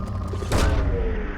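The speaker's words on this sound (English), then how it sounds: "Launching probe." Probe launch in the Mass Effect 2 video game, a single sharp whooshing thump followed by a short rumbling tail, loud and close with no speech.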